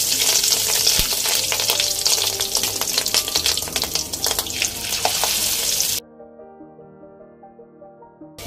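Rohu fish roe fries in hot oil in a karai. A loud, dense sizzle with crackling pops runs for about six seconds, then stops abruptly. Quiet music-like tones follow.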